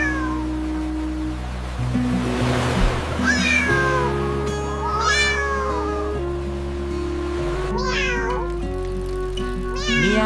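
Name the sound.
cat and kittens meowing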